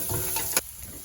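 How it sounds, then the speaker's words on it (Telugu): Onions and cashews fry in a pan for a tomato cashew curry, giving a brief, bright sizzling hiss that cuts off abruptly halfway through, leaving only a faint background. "ఆనియన్స్, క్యాష్యూస్ చక్కగా ఫ్రై అయిపోయినాయి."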